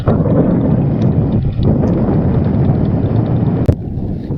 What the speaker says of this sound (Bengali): এই যে ট্রলারগুলো এই পার থেকে ওই পারে যাত্রী পারাপার করছে